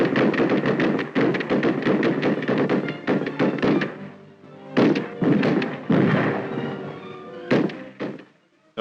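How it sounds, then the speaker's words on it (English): Intermittent gunfire at a target car on an indoor rifle range at FBI headquarters in 1936, dense bursts of loud thumping shots with short pauses, heard on old archival film audio. "Intermittent firing."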